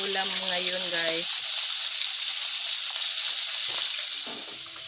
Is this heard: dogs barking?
no